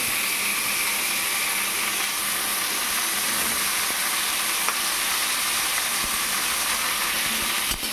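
Whole onions, chopped chilli and tomato sizzle in hot oil for an egg curry, a dense, steady frying crackle filling the pan at close range with no voices.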